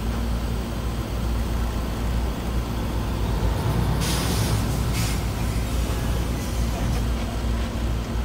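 A Stevens Transport truck's air brake lets out a loud burst of hissing air during a service brake test, over a steady idling engine rumble.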